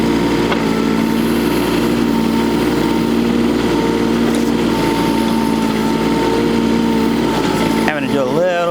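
A Kubota U10-5 mini excavator scraping dirt into its bucket, a steady loud high-pitched engine drone with hydraulic whine and faint scraping, close, with a burst of wind or handling noise near the end.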